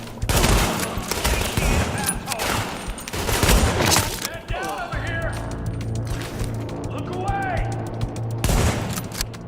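Gunfire from the video game The Division: loud bursts of automatic fire and rapid shots throughout, with clattering impacts and game voices speaking over the shooting.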